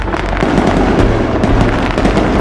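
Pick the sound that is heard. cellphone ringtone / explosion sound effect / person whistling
explosion sound effect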